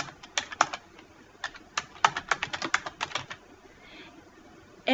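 Keystrokes on a computer keyboard while entering text into a Word business letter, a quick run of separate taps in irregular bursts, close and clear, with no talking.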